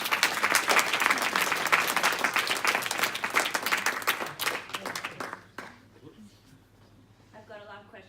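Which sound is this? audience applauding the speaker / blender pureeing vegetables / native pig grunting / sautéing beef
audience applauding the speaker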